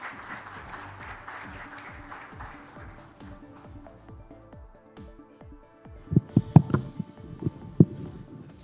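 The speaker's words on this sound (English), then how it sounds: "Can we have a huge round of applause, please?" An audience at a crypto conference applauds: steady dense clapping fades out over several seconds, followed by a few louder isolated thumps and knocks nearby.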